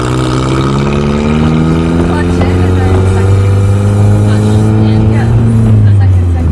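A manual car's engine revs up loud and steady as the gas is pressed, its drone rising and falling in pitch across the whole stretch, with people talking over it.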